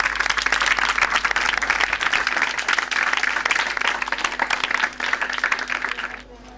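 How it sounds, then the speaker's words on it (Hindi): Loud, sustained applause from the audience at a church Sunday school program, dense rapid clapping filling the space before tapering off at the close. "यीशु के जलाल के लिए जोरदार तालियां।"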